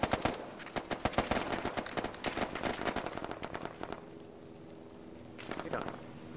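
Arma 3 battle gunfire: dense bursts of rifle and machine-gun shots crack in rapid clusters, loud and close, then ease off before a final flurry, with voices talking over the fighting.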